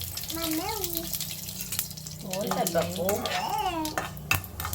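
Cumin, mustard seeds and dal fry in hot oil, a soft continuous sizzle and bubbling heard under someone speaking, with a brief clatter near the end.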